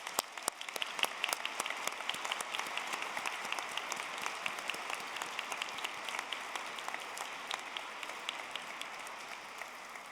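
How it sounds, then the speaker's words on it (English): A large crowd at a university graduation ceremony applauds steadily, dense clapping sustained at an even level throughout, with no voices standing out. "Please, can you join me in applauding?"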